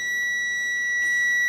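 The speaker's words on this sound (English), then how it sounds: "the needle will complete the circuit, setting off the buzzer" A homemade teacup alarm buzzer, wired so a needle completes a circuit once the tea cools, gives one loud, steady electronic tone that holds unbroken.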